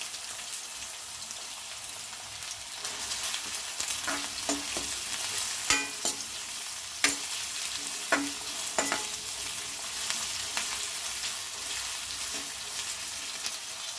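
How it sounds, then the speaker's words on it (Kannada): Chopped onions and green chillies frying in hot oil in a pan for vegetable fried rice, a continuous sizzle with scattered clinks and scrapes of a spoon stirring, close up and with no talking. "ಈರುಳ್ಳಿನ ಫ್ರೈ ಮಾಡೋಣ. ಹಸಿಮೆಣಸಿನ್ಕಾಯಿ ಹಾಕೋತಾ ಇದ್ದೀನಿ."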